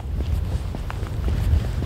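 Strong wind blows outdoors on a cold, sunny morning, buffeting the microphone with a steady low rumble and roar. It continues throughout with no talking.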